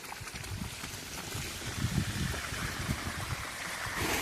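Water rushes steadily through a Jain sand filter on a farm during backwash, a continuous broadband gush with no talk.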